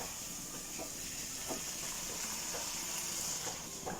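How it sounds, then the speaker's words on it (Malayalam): Chicken stock poured into a hot pan of sautéed capsicum and spring onion bulbs for mushroom chicken soup gives a soft, steady sizzling hiss with faint intermittent splashes, quiet and close. "അപ്പോൾ നമുക്ക് ഇതിലേക്ക് ചിക്കൻ സ്റ്റോക്ക് ഒഴിച്ചു കൊടുക്കാം"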